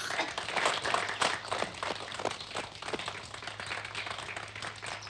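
Cartoon crowd applause at the finish line of a forest marathon, a soft, steady patter of many small claps over a low hum, moderately distant and fairly even throughout.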